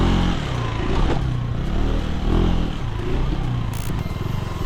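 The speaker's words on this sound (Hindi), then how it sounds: "तो अब हम चला रहे 390 एंड्यूरो आर को इसके मिनी एंड्यूरो ट्रैक पर।" A KTM 390 Enduro R motorcycle ridden on a mini enduro track with jumps and banked corners, its engine a close, continuous rumble with rising and falling revs throughout, no talk.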